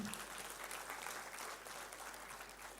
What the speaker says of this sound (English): Kindly keep the applause going.